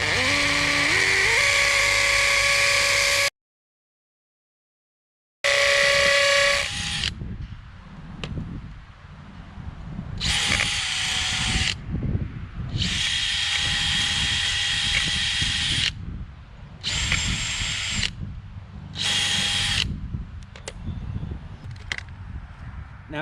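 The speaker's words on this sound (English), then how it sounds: "let's go ahead and drill these out" Power drill boring a 1/4 inch hole while installing solar sidewalk lights, loud whirring bursts that start and stop repeatedly with short pauses and one complete silence between runs.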